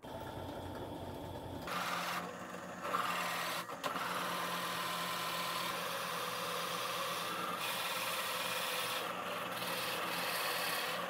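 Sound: drill press boring a 5 mm recess with 35 mm bit

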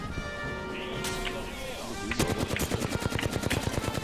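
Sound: gunfire in the Apex Legends video game

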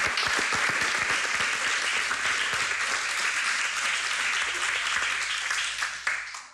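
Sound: audience applause

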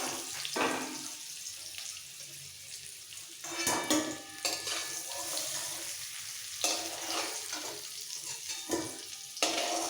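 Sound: potatoes frying in oil until golden brown

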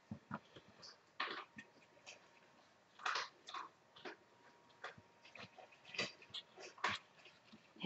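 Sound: dog crunching food in another room

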